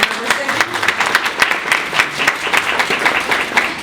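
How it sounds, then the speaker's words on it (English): A room of attendees at a community health session gives a quick, steady round of applause, dense overlapping claps lasting throughout at moderate loudness. "a quick round of applause for our board members"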